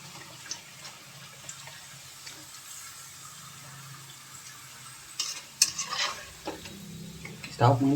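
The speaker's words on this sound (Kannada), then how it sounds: "ಈ ರೀತಿಯಾಗಿ ತಳಗ ಮ್ಯಾಲ ಎಲ್ಲ ಸರಿಯಾಗಿ ಫ್ರೈ ಆಗುತ್ತಾನೆ ಎಣ್ಣೆ ಒಳಗೆ ಕರಿಬೇಕು" Tapioca pieces fry in oil, a faint steady sizzle broken by scattered clinks and scraping stirs that grow louder toward the end.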